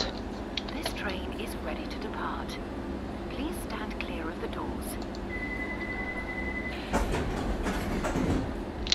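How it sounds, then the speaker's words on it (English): A London Underground train in a simulator game rolls off from the platform with a steady rumble and a faint clatter, a high electric whine entering midway before the noise swells near the end, while a voice talks quietly over it. "Well, this train is ready to depart."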